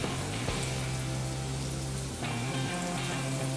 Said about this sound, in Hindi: अभी कलर के लिए हम इसे थोड़ा गैस बढ़ा के फ्राई कर रहे हैं।